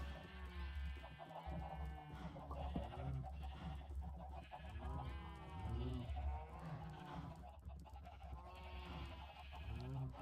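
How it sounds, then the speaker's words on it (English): Sheep, cows and other farm animals bleating and lowing in the Minecraft video game, a loud continuous layering of overlapping animal calls under faint background sounds. "I need to get away from all that fucking sheep, cow, and chicken noises"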